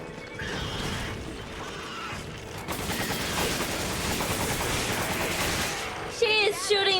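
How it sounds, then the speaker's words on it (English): Enemy gunfire in Resident Evil 5 comes as a dense, sustained burst of rapid shots through the middle of the clip, loud and continuous before fading near the end. "She is shooting me! She is shooting me!"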